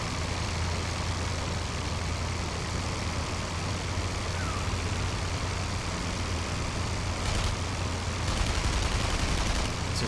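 WW1 aircraft machine guns firing in IL-2 Flying Circus, a steady dense rattle blended with constant engine drone, loud and unbroken, with a few sharper bursts near the end.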